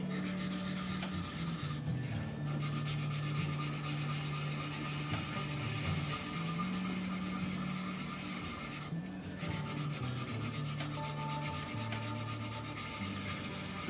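A clear epoxy resin shaving brush handle is sanded with fairly coarse 180-grit paper, giving a steady close rubbing rasp that runs continuously with two brief pauses, no talking.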